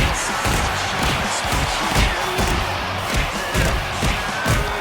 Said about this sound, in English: And that got the crowd amped.